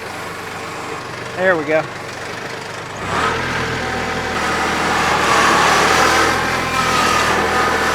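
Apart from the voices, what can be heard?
machine bucket loading dirt against pile, engine running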